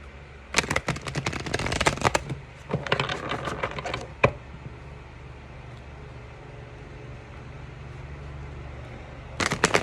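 Tarot cards being shuffled, brisk bursts of crisp riffling and flapping in short clusters with quiet gaps between, fairly close and without talk.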